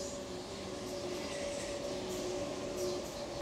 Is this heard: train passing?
yes